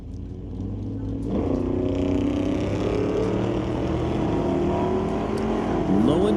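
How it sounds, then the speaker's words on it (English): A 1969 Acadian drag racing car at an NHRA drag strip: a loud, sustained engine roar that jumps up after about a second and holds at a strong, steady level, with a rising whine near the end, with no talk. "Monroe in the right lane. Behind the wheel of his 69 Acadian"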